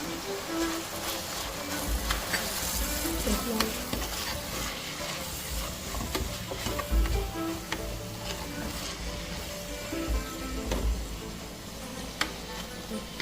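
Ginger and garlic sautéing in a pan with garam masala for chicken kurma, a soft sizzle under repeated stirring and scraping of a spoon, close and fairly quiet, with no talking.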